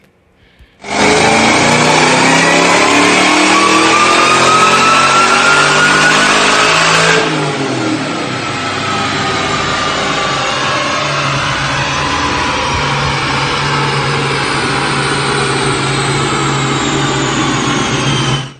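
A 2003 Ford Mustang Cobra engine revs loudly with rising pitch for several seconds, then drops to a steady rumble before revving again, close and continuous.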